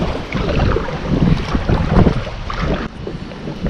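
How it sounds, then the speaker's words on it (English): Strong wind gusts across a river during fishing, a steady loud roar of buffeting against the microphone with no voices. "it's getting so windy"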